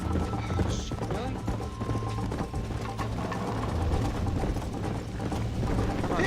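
Horse hooves galloping in the video game Red Dead Redemption, a steady clip-clop rhythm under dense game sound and mechanical clatter, with a voice talking over it.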